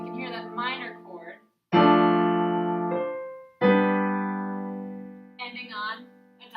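Two sustained piano-like chords ring out in turn, a minor chord and then a dominant fifth chord closing a cadence, each decaying slowly, with a person talking briefly before and after them.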